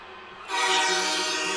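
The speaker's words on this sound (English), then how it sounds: "You know what it is, the train horn" A train horn blasting over a stadium during an NFL football game between the Buffalo Bills and Cincinnati Bengals on third down, a loud sustained multi-tone blare kicking in after a brief moment of crowd noise and holding steady.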